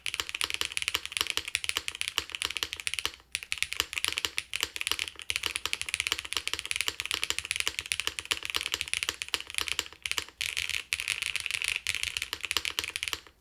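Steady, fast typing on a Neo75 mechanical keyboard resting on a cork desk pad, a dense run of crisp, close keystrokes with only brief pauses and no talking.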